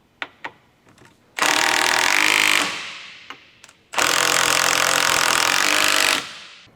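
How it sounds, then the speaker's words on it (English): A 19mm deep socket on an electric impact wrench tightens the rear control arm bushing bolts on a 2007-2013 Acura MDX, two loud sustained hammering bursts of about two seconds each, separated by a few sharp clicks and clanks. "Use a 19mm deep socket with an electric impact wrench to tighten the rear control arm bushing mounting bolts."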